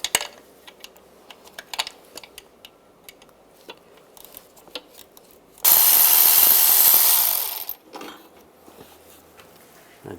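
A power tool with a 10mm socket removes the bracket bolts on a 2007-18 Jeep Wrangler in one close, loud whirring burst of about two seconds, with light clicks and handling noises around it.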